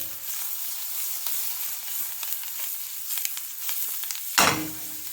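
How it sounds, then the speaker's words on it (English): St. George's mushrooms frying whole in frothing butter in a pan, a steady close sizzle and crackle with small pops and a brief louder burst of sizzling near the end. "Got some butter in the pan frothing."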